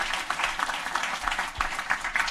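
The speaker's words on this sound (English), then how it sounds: "Big round of applause for this team" An audience applauds a hackathon team at a presentation event, giving a dense, steady wash of clapping that runs throughout at a moderate level with no voices over it.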